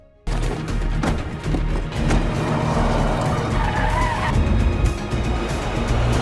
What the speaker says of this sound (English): they pile into a car and drive down a rural road